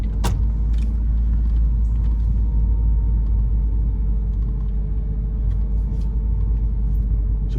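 Inside a car driving slowly through a residential Shreveport, Louisiana neighborhood of brick homes, a steady low engine and road rumble holds throughout a left turn, with faint clicks and rattles over it.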